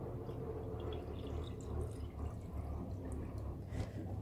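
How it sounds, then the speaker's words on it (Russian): Water is poured into a small watering can, giving a faint, steady low gurgling fill with light splashes that continues throughout, quiet and close. "Наливаю в меньшую леечку."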